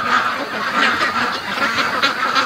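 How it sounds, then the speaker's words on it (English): Ducks on a farm raised for charity, heard around 3 a.m., call and honk in a dense, overlapping chorus close by, with repeated bursts of quacking throughout and no talking. "the ducks are like super active tonight, in a happy way"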